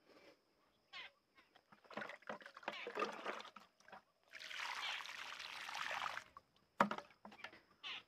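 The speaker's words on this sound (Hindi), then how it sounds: "अब हम इसमें और पानी डालेंगे" Water is poured onto a homemade compost pile in irregular splashing bursts, with a longer sustained pour in the middle; sound is faint overall.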